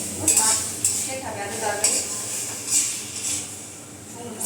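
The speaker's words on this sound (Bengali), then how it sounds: "লুচি ভাজছো" Luchi, puffed wheat flatbreads, frying in a pan for a breakfast with spicy potato curry, a steady hiss punctuated by scraping and stirring clinks, with people talking nearby.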